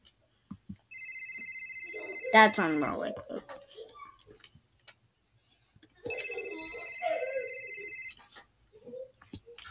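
A phone ringtone plays in two repeated bursts of electronic ringing with a melodic, voice-like tone, close and fairly loud, with a brief remark from a person between the rings.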